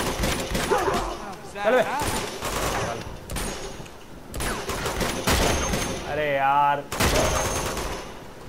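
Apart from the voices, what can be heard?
gunfire in the video game Uncharted 2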